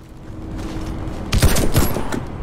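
Gold Desert Eagle gunfire in Warface on Xbox One: a steady game-ambience bed breaks into a short cluster of loud, punchy shots around the middle, with a couple of trailing reports.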